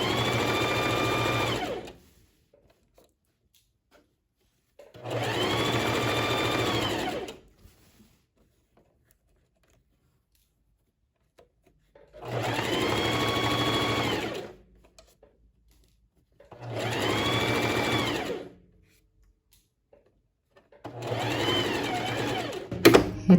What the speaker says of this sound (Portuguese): Dou um retrocesso e venho com a costura